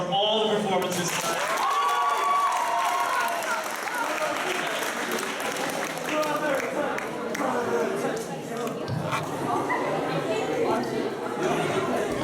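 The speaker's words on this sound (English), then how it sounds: "can we get one last round of applause for all the performances tonight?" Sustained audience applause mixed with crowd chatter and a few voices at a community poetry slam, steady and fairly loud throughout.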